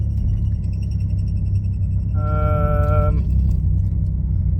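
A Nissan M35 Stagea converted to an all-wheel-drive manual, cruising around a college campus: a loud, steady engine drone heard from inside the car, with a brief whining tone partway through.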